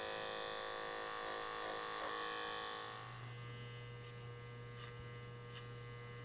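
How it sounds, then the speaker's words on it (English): An electric hair clipper hums during a child's pompadour haircut. A steady buzzing drone carries a faint cutting texture at first, then settles into a quieter, even hum. "I'm keeping the clipper parallel to the outline of his hair, or his natural hairline"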